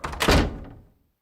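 A door thudding shut as someone leaves, a single close, solid thunk with a short decaying rattle, alone without speech.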